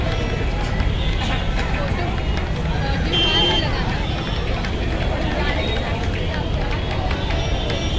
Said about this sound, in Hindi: ये देखिए कैसे भीड़ आ रही है। ये सब लुलु मॉल आ रही है।